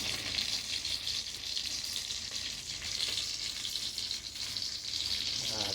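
Fish frying in a pan for a home feast, a steady, close sizzle with dense crackling that holds evenly throughout and has no voices over it.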